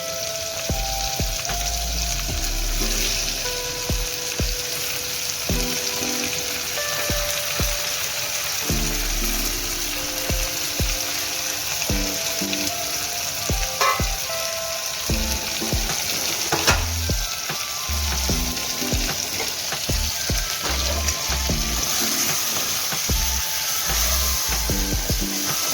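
Stuffed eggplant and potato pieces frying in a pan of oil, a steady loud sizzle running throughout with scattered clicks and scrapes of stirring, no voices.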